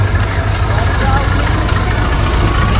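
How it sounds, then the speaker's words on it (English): A train rumbling beside walkers on the tracks along a jungle trail, a loud close engine drone with steady low throb and no breaks throughout. "Walking past this train now."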